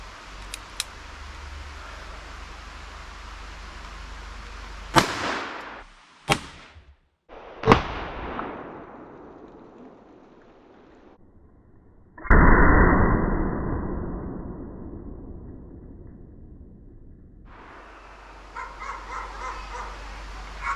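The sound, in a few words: 41 Magnum gunshot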